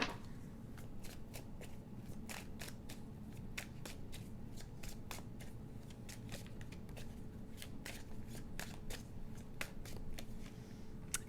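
A deck of Messages of Love oracle cards is shuffled by hand, close and quiet, a long run of rapid papery riffles and flicks with no talking.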